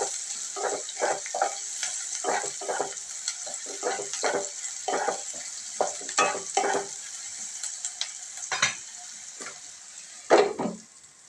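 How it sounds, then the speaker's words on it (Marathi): Onions frying in a pan under a constant sizzle while a spoon stirs them, making a quick run of close scraping strokes that ends with a louder scrape, and no voices. "कांदा चांगला परतून घेऊया आपण"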